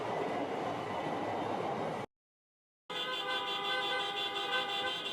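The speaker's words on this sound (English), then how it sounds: "Riding bumper to bumper while honking horns, cab drivers make their way through downtown Chicago" Cab drivers protesting in downtown Chicago traffic honk their horns. A loud, sustained blare is cut by a brief gap of silence, then the horns resume, steady and close.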